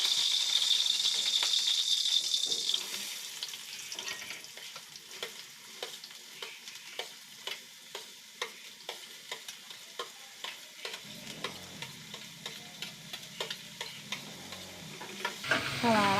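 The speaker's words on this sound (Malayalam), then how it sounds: "സവാള തക്കാളി പച്ചമുളക് ഇഞ്ചി വെളുത്തുള്ളി ഇതൊക്കെ കൂടിയിട്ടിട്ട് മൂപ്പിക്കുക" Onion, tomato, green chili, ginger and garlic sautéing together in a pan for an egg curry, a hissing sizzle that fades after a few seconds into a regular rhythm of spatula strikes and scrapes against the pan, close up, no voices.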